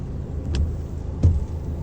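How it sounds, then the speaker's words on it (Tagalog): A Ford Ranger XLT pickup idles and rolls slowly into an indoor tint shop, its low engine rumble steady and close, with a couple of brief mechanical clicks or thumps over it. "ipapasok na natin yung sasakyan Ito sa BFM JIC Auto"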